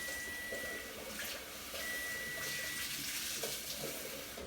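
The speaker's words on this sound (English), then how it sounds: "So I'm going to put some cold water on here." Cold water runs steadily from a kitchen tap over soft-boiled eggs in a pot, a continuous close splashing wash that holds for the whole stretch with a few brief shifts in the flow.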